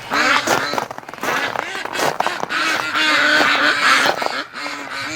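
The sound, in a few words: ducks quacking in response to owner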